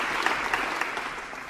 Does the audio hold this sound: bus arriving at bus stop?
no